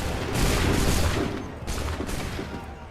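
Soldiers fire musket volleys at the Battle of Bunker Hill in Assassin's Creed 3, several booming bursts of massed shots with a ragged crackle, rising and falling over a rumbling battlefield.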